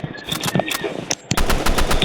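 Rapid automatic machine-gun fire in a shooting video game, loud, close bursts of shots in quick succession with a brief pause before a final sustained burst.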